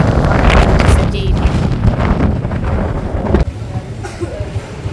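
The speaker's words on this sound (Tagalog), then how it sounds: "Sobrang lakas po ng hangin." Strong wind buffets the microphone in loud, gusty roars, easing slightly toward the end, with a brief voice speaking underneath.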